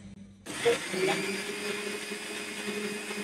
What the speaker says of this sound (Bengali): মাশাআল্লাহ ভালোভাবেই তো ঠিক হয়েছে, ভালো ব্লেন্ড হয়েছে